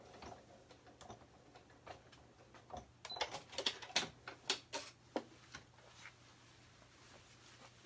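A sewing machine top stitching along a garment's fly extension, running in short irregular bursts of quiet ticking stitches that cluster in the middle and then thin out.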